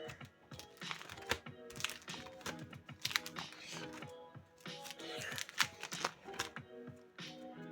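Pokémon trading cards handled and sorted from a flea-market lot: a steady run of close, crisp card flicks, slaps and shuffling clicks in quick irregular bursts, fairly quiet, with no one speaking.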